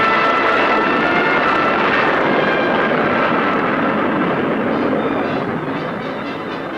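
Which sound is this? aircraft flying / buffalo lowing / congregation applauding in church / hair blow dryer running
aircraft flying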